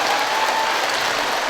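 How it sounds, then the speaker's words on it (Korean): Steady, dense clapping from an audience at a KBS Ulsan women's singing class event fills the short stretch, loud and even throughout with no voices over it. "내가 박수를 부탁하지 않으면 이렇게 박수 줘서 너무 감사하고"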